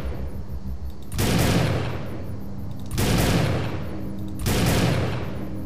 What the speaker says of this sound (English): Oh, a sniper rifle that fires two shots,